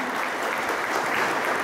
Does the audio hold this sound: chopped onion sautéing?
no